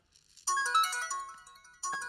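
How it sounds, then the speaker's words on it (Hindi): A phone ringtone goes off in a Hindi comedy film scene, a bright melodic electronic tune that starts abruptly after a brief quiet, plays for over a second, pauses, then starts again, loud and close with no talk over it. "उसी का फोन है।"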